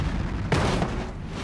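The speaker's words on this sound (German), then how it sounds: "Und bam, knallt dann halt komplett in die Wand rein." A car crashes head-on into a wall in the BeamNG driving game, giving one loud, sudden impact boom that tails off into a rumbling drone of continuing game noise, with no talking.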